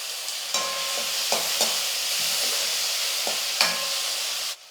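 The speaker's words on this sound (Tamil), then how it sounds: "பாருங்கள் வெங்காயம் தக்காளி எல்லாம் நல்லா வதங்கிடுச்சு" Onions and tomatoes sautéing in a pan, a continuous hiss of sizzling with a few spatula scrapes and knocks against the pan, close and fairly loud.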